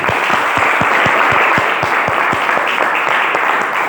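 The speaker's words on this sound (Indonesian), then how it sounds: "Beri tepuk tangan untuk Ilham." A class of students applauds a classmate in a lesson, loud close clapping with a few distinct sharp claps standing out over the steady patter throughout.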